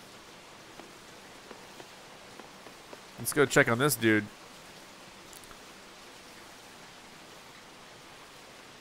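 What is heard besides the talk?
rain falling in Super Mario RPG video game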